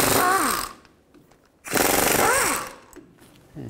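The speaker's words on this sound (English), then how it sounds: "Now I'll take these bolts out, use a 15mm socket" A 15mm socket tool spins out timing cover bolts on a 2000-2006 Chevy Tahoe, with two loud, short mechanical whirring bursts separated by a quiet pause and a faint start of a third.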